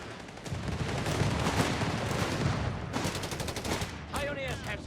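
Anti-tank gun fire in the Company of Heroes 3 video game mixes with dense gunfire and explosions in a continuous loud battle din, with sharp rapid cracks near the end.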